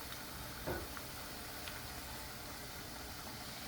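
Plantain pieces fry in oil in a pan, giving a steady, even sizzle with faint crackles and no talk.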